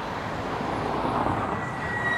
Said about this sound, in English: You'll be able to hear all the cars.